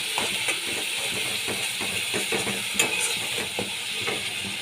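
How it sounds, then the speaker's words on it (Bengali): Spice paste with cumin powder fries and is stirred in a pan for a red hilsa curry, giving a steady close sizzle broken by repeated scraping strokes of the spoon. "এক চামচ জিরে গুঁড়ো দিয়ে দিলাম ভালো করে কষিয়ে নিতে হবে মশলাগুলোকে"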